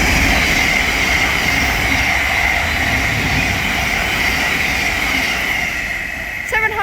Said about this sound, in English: We're about to have a Thameslink Class 700 pass by from Cambridge to Three Bridges.